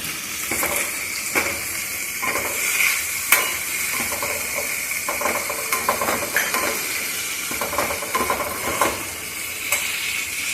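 Cumin seeds, omavalli leaves and green chili sautéing in a hot pan, giving a steady sizzle and hiss broken by repeated scraping stirs, close and fairly loud with no talking.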